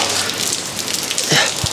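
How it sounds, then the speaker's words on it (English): Steady hiss of rain falling outside, a dense even patter with a couple of faint knocks nearby. "It's raining outside."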